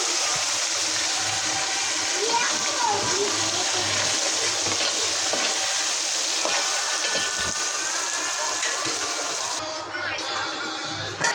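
Water goes into a cooking pot of rice with vegetables and beef, giving a steady hiss and watery rush that runs continuously at moderate level, easing slightly toward the end.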